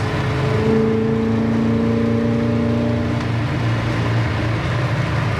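A 1969 Plymouth Satellite cruising down the road at about 65 to 70, a loud steady engine drone with a constant tonal hum heard from inside the car, no talk.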